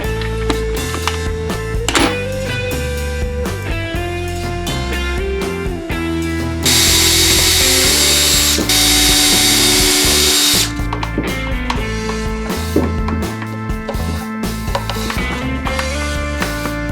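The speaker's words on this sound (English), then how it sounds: "With that mounted, I can drill the main vacuum hole." A power drill bores the main vacuum hole in a vacuum former's wooden platen, a loud close whine with shifting pitch, steadying into a harsher bite through the middle before easing again.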